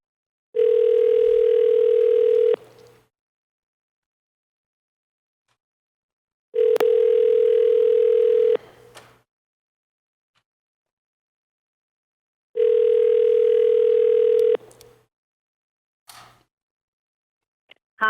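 A telephone call rings through a speakerphone in an assembly meeting room: three long, steady ringback tones, each about two seconds, separated by pauses of several seconds, loud and clear with no voices.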